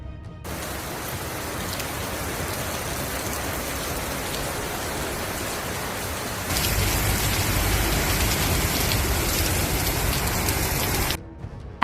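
Heavy rain pours down steadily in Okinawa as a dense, even hiss that grows noticeably louder partway through, then cuts off abruptly.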